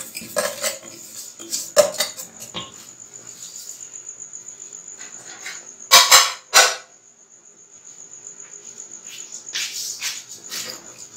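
Vermicelli roasting with cardamom in a pan for Eid rabri seviyan, stirred with a utensil: sharp metallic scrapes and clinks in bursts, louder clatter around the middle, over a steady high hiss, no talk.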